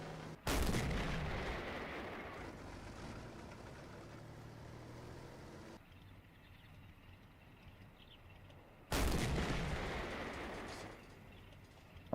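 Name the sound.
tank and artillery fire in a WWII strategy video game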